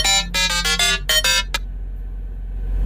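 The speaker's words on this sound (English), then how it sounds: "Oh, that was my phone ringing." A phone ringtone plays a quick run of bright electronic chime notes for about a second and a half, then cuts off, leaving quiet background hum.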